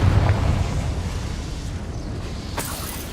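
A Confringo blasting spell explodes in a deep, rumbling boom that hits hardest at the start, then trails off into a sustained roar, with a sharp crack about two and a half seconds in.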